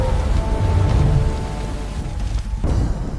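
Steady heavy rain pours down in a storm, with deep low rumbles of thunder rolling beneath a dense wash of falling water, loud and continuous throughout.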